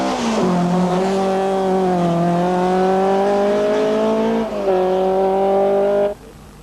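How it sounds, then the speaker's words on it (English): Audi Quattro 80 Group A rally car racing on wet tarmac at the 1985 Hellendoorn Rally, its engine howling loud and close with rising and falling revs and a shift near the end before cutting off. "And then comes Gunnar Pedersen, number 4, with the Audi Quattro 80"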